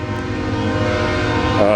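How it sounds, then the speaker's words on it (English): A train horn blares steadily, loud and close, over the low rumble of rail cars rolling past. "Train."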